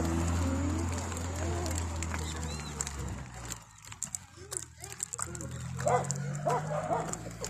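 Dogs at a municipal dog pound keep up scattered barks and yips, some near and some farther off, over a low rumble from a passing vehicle, with people talking throughout.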